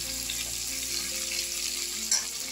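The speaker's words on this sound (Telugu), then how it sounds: "ఒక టమాటా, ఇవన్నీ కొద్దిగా మగ్గనిద్దాం." Tomato and mixed vegetables fry in a pan for vegetable biryani, a steady close-up sizzle with a faint stir or clink near the end, and no talking.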